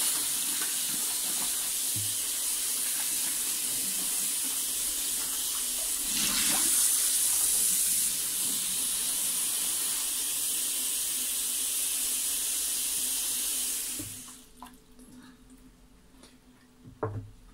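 Peeled white asparagus is rinsed under a running kitchen tap, a steady close hiss of flowing water that stops abruptly near the end, followed by a few faint knocks.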